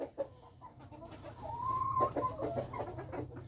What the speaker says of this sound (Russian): Курочки старенькие.